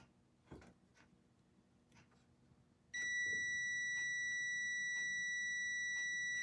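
Steady continuity beep from a multimeter probing the coils of a shop vac motor starts abruptly partway through and holds loud and unbroken to the end, after a stretch of quiet handling noise.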